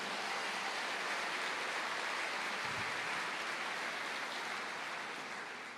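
A church congregation applauds together, a dense and steady wash of clapping that holds for several seconds before tapering slightly at the end, with no talking over it.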